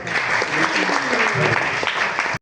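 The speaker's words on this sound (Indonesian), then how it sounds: "Oh, tepuk tangan dulu." A small group claps steadily for a couple of seconds, a dense patter of hands close by, ending abruptly.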